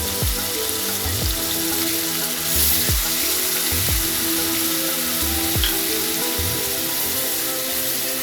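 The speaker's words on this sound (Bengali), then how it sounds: "এর মধ্যে আমি পেঁয়াজ আর টমেটো চপ করে রেখেছিলাম সেটাকে দিয়ে দিচ্ছি।" Chopped onion and tomato hitting a hot pan after cumin tempering, a loud continuous sizzle with a few sharp knocks of the spatula, close up and without voices.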